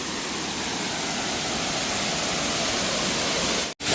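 A small waterfall in Konkan roars in a constant, even rush of water, with a brief dropout just before the end; no voices.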